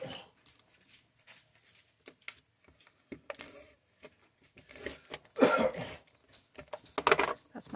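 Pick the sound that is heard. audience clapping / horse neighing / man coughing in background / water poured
man coughing in background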